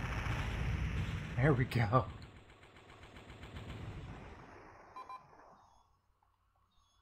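Rapid weapon fire in the space shooter Space Griffon VF-9, a dense burst of repeated shots at the start that fades into a lingering rumble, with someone talking briefly over it.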